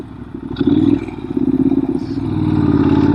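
A 2014 Norton Commando 961 SF motorcycle engine runs steadily with a deep, pulsing rumble, close and loud throughout, swelling slightly as it pulls, with light mechanical clatter on top.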